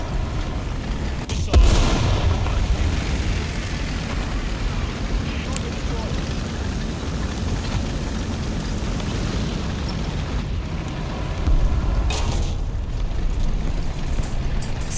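Artillery barrage in a tank video game, with booming low blasts striking around a Churchill AVRE tank, heavy impacts near the start and again later over a constant rumbling engine bed.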